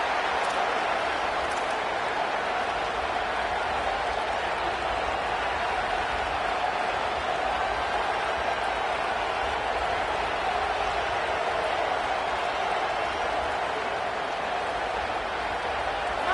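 A stadium crowd at a Clemson football game produces a steady, distant roar of cheering and murmur that holds unbroken throughout, with no distinct peaks, and a commentator talks over it.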